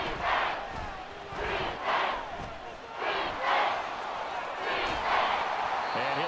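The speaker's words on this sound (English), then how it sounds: "This crowd turning up the decibel level." Crowd roar in an American football video game, Madden NFL 24, swelling in repeated waves over a steady stadium din throughout, with no talk over it.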